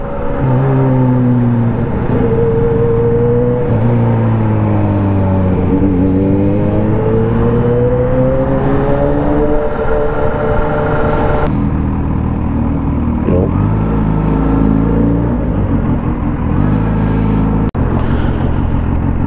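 Dense Sunday-afternoon traffic on Balete Drive heard from a motorcycle ride, a steady loud engine drone with shifting, rising and falling revving tones from nearby vehicles, continuous throughout with a couple of sharp clicks near the end.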